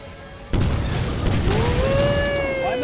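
A booming rocket blast in VR Lethal Company, a sudden loud burst that holds steady as a dense rumble, with a rising whistling tone and scattered crackles following.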